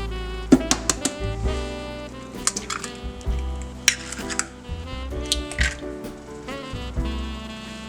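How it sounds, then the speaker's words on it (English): Three eggs per cake, six in all, being mixed in a bowl for a pumpkin cake: a rapid, uneven run of close clinks and taps of utensil against bowl, with no talking. "In a bowl, we're gonna be mixing 3 eggs for each cake, so a total of 6 eggs."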